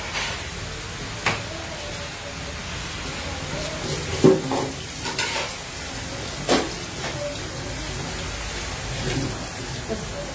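Food being stirred in a cooking pan with a steady rain-like sizzle and a handful of spoon knocks and scrapes spread over the span, close and moderately loud.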